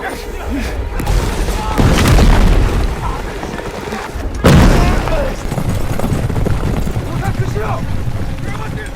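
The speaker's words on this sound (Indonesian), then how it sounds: "mereka semua dihujani oleh kepungan ledakan meriam dari pasukan elit" Cannon explosions boom over a battlefield of troops, dense heavy blasts rolling together with a sharp hit near the middle, while a voice narrates throughout.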